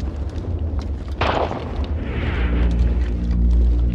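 Artillery gunfire and explosions in a war drama battle scene, with a sudden heavy blast near the middle followed by a sustained roaring rumble and scattered distant booms, loud and continuous, no talking.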